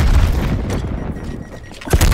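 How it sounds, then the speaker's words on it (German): A grenade going off in Call of Duty Black Ops Cold War multiplayer, a loud boom with rumbling debris at the start, then a brief fade and a second sharp blast near the end. "Werfe Granate."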